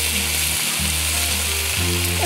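Food frying on a camp stove at a camper trailer site in Dargo, Victoria gives a loud, steady sizzle and crackle up close, with a low hum from the stove burner underneath.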